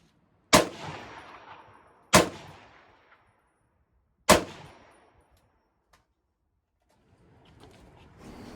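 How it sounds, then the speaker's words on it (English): Three loud, sharp M14 rifle shots fired from the prone position, spaced about two seconds apart, each ringing out with a decaying echo, followed by faint handling noise. "The second magazine is supposed to be fired prone supported"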